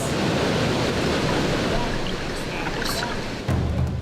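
Strong current of an underground river rushing through Duba Cave, a continuous loud broadband wash of water that stays near and steady throughout, with no clear speech.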